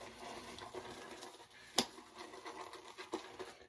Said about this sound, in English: Start lathering it up here.